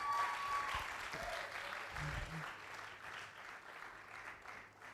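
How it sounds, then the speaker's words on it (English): At a physiotherapy induction ceremony, an audience applauds the inductees' parents with sustained, moderately distant clapping from a crowd, steady for several seconds and slowly easing off. "I want you to celebrate your parents by clapping for them"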